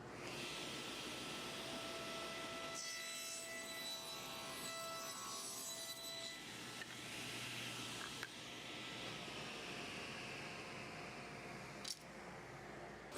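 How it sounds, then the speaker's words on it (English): Table saw ripping a long wooden strip, with the hand-over-hand feed as the board passes, a steady loud whine and rasp across most of the stretch, a clear buzzing section early on, then a sharp knock near the end. "So let's go ahead and make this cut, and I'm going to do a hand over hand technique since this is a longer strip"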